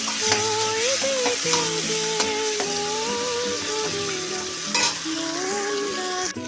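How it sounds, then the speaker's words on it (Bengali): Raw onions fry in oil and are stirred in a pan for a fish-oil chorchori, with a continuous loud sizzle and occasional scraping stirs under melodic background music. "এবার আমি কাঁচা পেঁয়াজগুলো দিয়ে দিলাম কাঁচা পেঁয়াজগুলো দিয়ে আমি একটু নাড়তে থাকবো"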